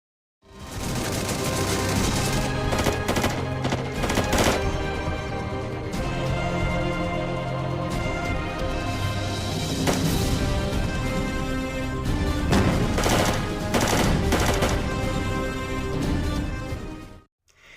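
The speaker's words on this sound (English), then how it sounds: "there's just a few seconds of the characters shooting" Gunfire from a teen-rated U.S. Army video game: bursts of shots and crashes over a dense, continuous game soundtrack, steady and loud throughout with no talking.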